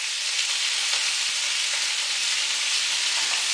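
Asparagus sizzles loudly in a very hot pan on high heat, a steady, dense frying hiss that holds close and unbroken throughout, with no talking.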